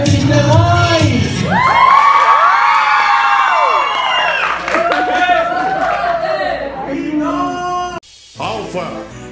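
A crowd at a charity event in São Gonçalo cheers loudly, with whoops, shrill shouts and children's voices over clapping and chatter, before a sudden drop near the end.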